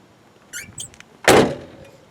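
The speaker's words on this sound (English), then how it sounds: "Latches operate nicely in this car." A couple of light clicks followed by a solid thunk of a car door latch shutting on a 1988 Pontiac Trans Am GTA, close up, with no talking.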